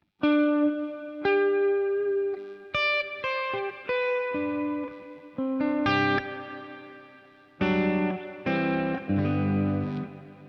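Electric guitar notes and chords played through a Sonicake Pocket Master on its Dream reverb setting ring out with a lush, washy reverb tail, each strum blooming and lingering, played alone without any talking.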